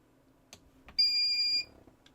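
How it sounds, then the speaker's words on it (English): A cheap generic EGO-compatible 300W inverter gives one loud, steady electronic beep of about half a second when switched on, close and clear against a quiet room with a few faint clicks around it. "Alright, so we got a loud beep."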